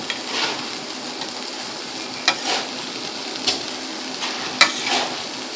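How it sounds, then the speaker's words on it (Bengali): Fried prawns sautéing in spice masala give a steady sizzle and frying hiss for a prawn malai curry, with a few sharp clinks of a spoon stirring in the pan. "ভেজে রাখা মোচা চিংড়িগুলো এর ভেতরে দিয়ে কষিয়ে নিতে হবে।"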